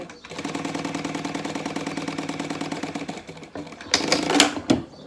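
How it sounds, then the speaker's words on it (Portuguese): A sewing machine runs a fast, steady stitch along a pocket on a synthetic leather binder, a close rhythmic mechanical whirring that stops after about three seconds, followed by brief handling rustles and clicks. "Vou passar uma costurinha aqui de aparência nessa parte do bolso"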